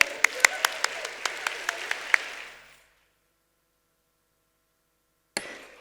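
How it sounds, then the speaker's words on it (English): Audience applause for a children's preschool performance at an Excellence Day event, a dense burst of clapping with sharp individual claps for about three seconds before stopping, then a brief new burst at the end. "Once again, please give them a huge round of applause."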